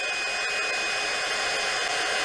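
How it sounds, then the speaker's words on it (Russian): A KAIWEETS KEH01 mini hot air gun blows continuously, a steady loud whooshing hiss with a faint whine, close up and unbroken. "Остужаю фен."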